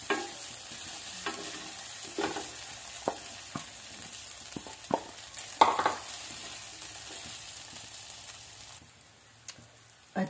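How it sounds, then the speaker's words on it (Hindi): Sago pearls being stirred in ghee in a pan for sabudana khichdi, giving soft intermittent scrapes and taps of a spoon over a gentle, fairly quiet sizzle, heard up close with no speech. "अच्छे से मिक्स करेंगे"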